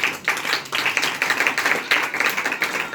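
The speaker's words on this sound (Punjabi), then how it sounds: "ਜਿਨ੍ਹਾਂ ਨੇ ਯਿਸੂ ਮਸੀਹ ਕਿਹਾ ਹੈ ਉਹਨਾਂ ਲਈ ਜ਼ੋਰਦਾਰ ਤਾਲੀਆਂ" Applause from a church congregation, a dense rattle of many hands clapping at once, swelling and dipping in waves throughout, with no voices over it.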